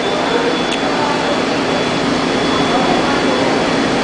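A Ford 302 V8 engine runs with a loud, steady, unbroken roar that fills the whole stretch at close range, with no clear rise or fall in pitch.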